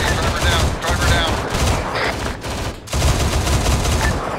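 Loud, sustained bursts of rapid gunfire in the military shooter game Squad, during a vehicle convoy ambush, crackle almost without pause, with a brief lull midway.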